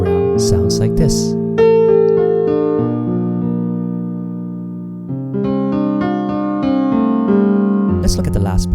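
Piano playing the second half of a 1980s-style turnaround, sustained chords and a right-hand melodic line ringing close and clear, with a short dip midway and faint breathy noise at the start and end.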